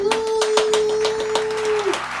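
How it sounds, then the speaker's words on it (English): A few people clap at home for baby Brystin, sharp separate claps in an uneven rhythm, close and fairly loud, over a steady tonal hum. "give Brystin a round of applause"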